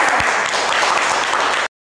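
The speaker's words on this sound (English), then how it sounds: "let's give a big clap for Ballu the bear" Audience clapping for a children's bear dance act at a school Children's Day show, a dense, steady burst of applause for under two seconds that cuts off abruptly.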